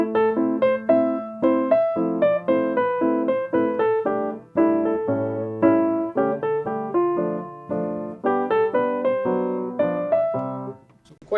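Solo piano plays a song in even, straight rhythm rather than dotted, steady chords and melody at moderate volume, with no voices.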